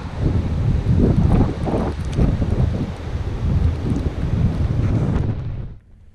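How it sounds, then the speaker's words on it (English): Strong gusts buffet the microphone in loud, rumbling bursts for several seconds before cutting off abruptly, on the coast at Cape Nelson lighthouse, South Australia. "it's real windy, so I'm not sure how much I'll film down here."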